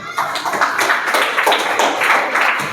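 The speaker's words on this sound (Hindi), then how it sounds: "Very good, very good, Tali बजाइए।" A classroom of children clapping together on the teacher's cue, a dense steady patter of many hands lasting a few seconds, fairly close and loud, with no talk over it.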